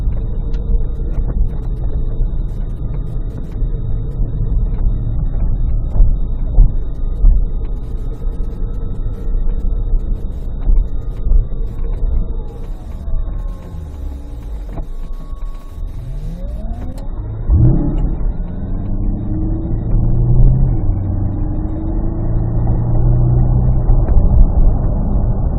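A 2025 Chevrolet Corvette E-Ray, a hybrid, runs with a steady low engine rumble and a rising whine near the middle, then builds into louder revving toward the end, close and continuous with no talking.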